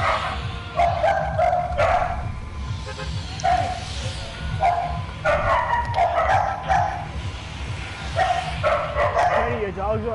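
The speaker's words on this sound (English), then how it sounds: "your dogs are annoying. Shut them up." Dogs bark in repeated loud bursts on a live stream, close and insistent, interleaved with people talking.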